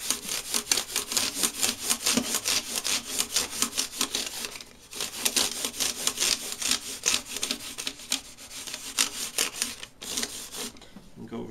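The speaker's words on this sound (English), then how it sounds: "I'm just going to go across the frets this time and take out the 600 grit scratches with the 800." Guitar frets are sanded with 800 grit sandpaper across the fretboard, a close, rhythmic back-and-forth scratching of quick, even strokes that pauses briefly twice.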